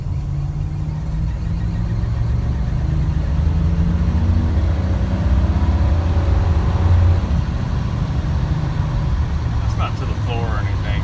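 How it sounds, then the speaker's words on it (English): Exhaust of a 1985 Chevrolet C10 truck fitted with glass pack mufflers, a steady low rumble that swells slightly mid-way while driving, with road and cabin noise throughout. "Just figured I would let y'all listen to the exhaust. It sounds pretty good. It's not droning too bad."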